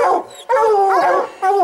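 A hound dog bays at a bobcat treed in a big fir tree during a Colorado hunt, giving three loud, close, drawn-out barks that rise into howls with short pauses between them.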